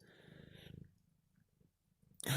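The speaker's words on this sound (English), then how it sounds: "The cat's right over the phone." A cat purrs close against a phone, a soft rhythmic rumble that fades after the first moment. A sudden loud rustle or handling noise follows at the end.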